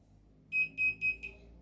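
Four short, bright beeps from a multimeter set to continuity, testing the heating element of a clothes iron during a repair. The first three are evenly spaced and the last is clipped short, all clear against a quiet low hum.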